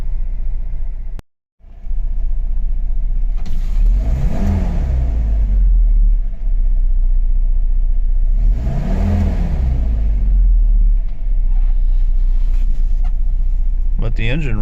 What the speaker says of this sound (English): But the engine runs good.